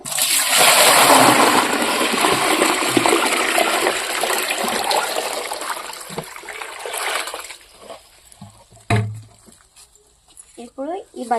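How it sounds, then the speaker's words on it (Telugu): Water rushes and splashes steadily into a bucket for several seconds, filling it, then tapers off into quieter trickles and a few knocks. "బకెట్ నిండా నీళ్ళు పోసి బకెట్లోనైతే నానేస్తాను"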